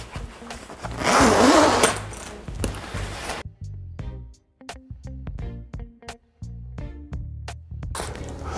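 A YKK zipper on a parka, rasping in a loud burst at the start, then a run of short clicks and rustles as the jacket is handled close by.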